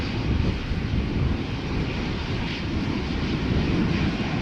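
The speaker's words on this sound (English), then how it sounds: "So Speedbird flight 429 outbound London Heathrow A319." Steady broadband roar of a British Airways Airbus A319 jet airliner at Schiphol Airport, continuous and fairly loud throughout with no distinct events, no voices.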